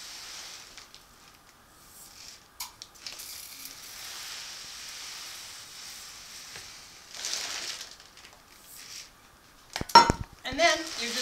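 Chick starter pellets, a cereal-like chick feed, are measured out by the cup for homemade bird suet. Quiet scraping and rustling give way to a short burst of rattling, clinking pellets near the end.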